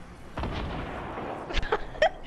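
Gunfire in a video game: a handful of sharp, booming shots at moderate level, with a cluster of quicker bursts near the end, heard with no talking.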